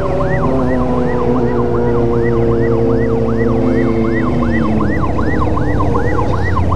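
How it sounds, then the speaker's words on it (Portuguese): An ambulance siren wails loud and close, its rising and falling whoop repeating steadily and rapidly over several seconds while traffic and engine hum sit low beneath it. No one speaks. "Deixa a ambulância embora."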